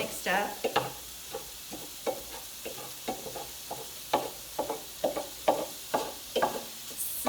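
Spoon stirring a turkey stuffing mixture with spices in a sizzling pan, repeated scraping strokes in an uneven rhythm over a faint, steady frying hiss, close and fairly quiet.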